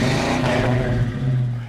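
A human voice imitates a car engine revving, a loud, close rising and falling growl that holds for a moment and then tails off.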